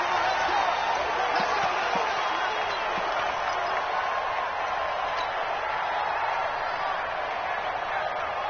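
Steady roar of a stadium crowd in an American football video game, a dense continuous wash of cheering that stays loud and even throughout with no individual voices standing out.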